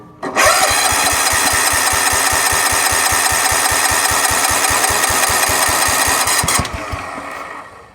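The engine of a 1969 Suburban with a leaking fuel line cranks loudly and close by, a rapid even chugging of the starter for several seconds without catching, then winding down.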